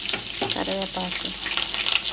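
Onions, green chillies and curry leaves fry in a pan with mustard and cumin seeds, giving a steady close sizzle. A few short tonal voice-like sounds break through briefly.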